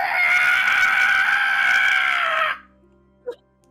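A loud, sustained monster scream from a tabletop Dungeons & Dragons sound effect, harsh and steady for about two and a half seconds before it cuts off, leaving a short faint clack in the quiet afterward.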